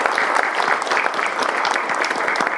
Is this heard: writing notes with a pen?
no